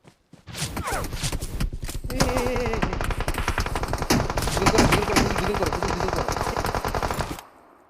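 A machine gun rattles in the mobile shooter game Shanhok, firing a long, dense burst of rapid close shots that runs for several seconds before stopping, with voices talking underneath.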